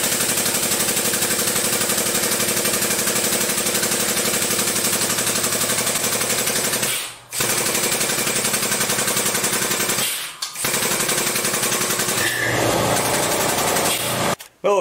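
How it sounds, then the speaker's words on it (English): An air compressor runs steadily and loudly while refilling in a workshop during hydraulic brush hog repair, a continuous mechanical drone interrupted by two brief dips before cutting out at the end. "the air compressor had to kick on"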